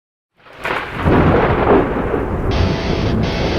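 Thunder sound effect opening a sports radio show intro: a sudden rolling crack swells into a heavy sustained rumble with rain-like hiss, loud and close, no speech over it.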